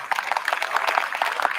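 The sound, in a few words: applause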